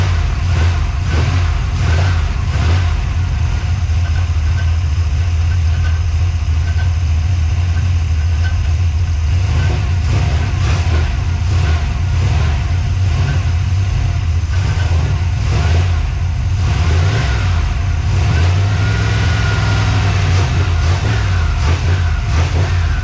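A car engine fitted with a Terminator X blow-through carburetor fires up for its first start, then idles roughly and revs in loud, uneven bursts for over twenty seconds, with no one talking.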